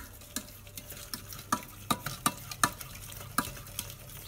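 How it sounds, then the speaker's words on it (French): Butter melting in a pan, a soft low sizzle beneath a series of sharp utensil clicks and taps against the pan, fairly quiet and close, with no voices. "Donc mon beurre commence à fondre."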